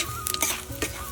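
Cumin seeds crackle in hot oil left over from frying potatoes, with a bay leaf and a dried red chilli in the pan, in short, close bursts of sizzling and spatter.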